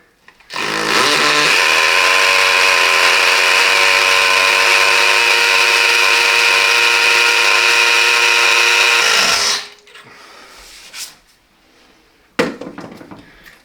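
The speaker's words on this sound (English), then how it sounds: "I've set my drill to hammer mode, so it'll go into the masonry" Hammer drill working into masonry while fitting a window blind bracket, a loud, close, steady rattling whine held for about nine seconds before stopping, followed by brief handling knocks.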